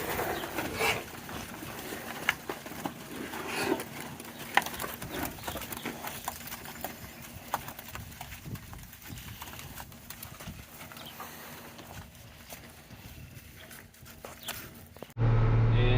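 Hooves of Brown Swiss cows walking out to pasture clop and shuffle irregularly on the ground at middle distance, a steady scattered patter with faint background noise and no talking.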